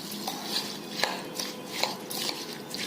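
A spoon stirs a raw mango mixture just poured with hot spiced tempering, making light, irregular clinks and soft scrapes against a dish, close and fairly quiet, with no talking.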